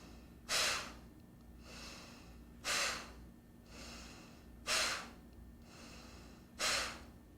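Slow, deep breaths repeat in a steady cycle: four sharp, loud exhales alternating with softer inhales, close up with no talking.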